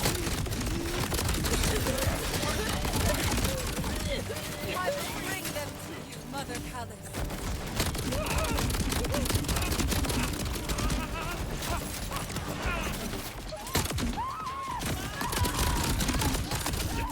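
Peacebreaker cannons in Borderlands 4 fire in dense, continuous bursts of gunfire, loud and sustained across the whole stretch with only brief dips, with a voice speaking faintly under the shooting.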